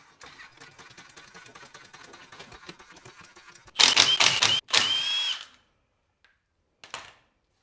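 An impact wrench spins 19 mm lug nuts onto a lifted Ford Escape's lighter wheels. Two loud, close whirring bursts come after a stretch of quieter clicking, followed by a short final zip.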